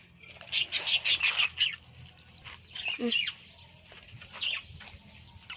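Birds in a home garden chirp in short bright bursts near the start and again later, fairly close, with a low background hum and a brief lower call in between.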